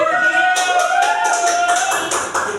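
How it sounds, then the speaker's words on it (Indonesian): Applause from an audience after a children's patriotic song at an Indonesian Independence Day event, a steady wash of clapping that carries through the whole moment with a sustained musical tone beneath it. "Udah beri tepuk tangan untuk semuanya"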